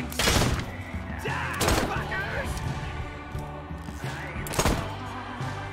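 Combat gunfire in the video game Wasteland 3, with several loud broadband bursts, strongest near the start, the middle and the end, over a game music bed. Speech is tagged, but no words are spoken.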